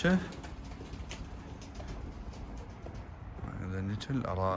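Racing pigeons coo softly inside a loft, with low repeated calls rising more clearly near the end while someone talks over them for much of the time.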